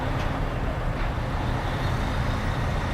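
A rotator tow truck lowering its boom while undecking a flatbed trailer, a loud, continuous low diesel rumble with hydraulic strain held steady throughout.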